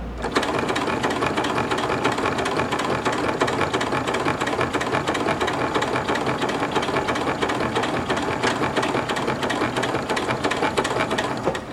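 A Janome MC9900 sewing machine stitching leather, a loud, steady, rapid mechanical whirring clatter running without pause from start to finish.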